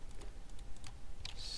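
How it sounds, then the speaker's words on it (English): Quiet keyboard typing while playing Minecraft, a handful of soft, irregular key clicks spaced across the moment, close but faint, with a brighter burst of keystrokes at the end. "That's not how you type redstone."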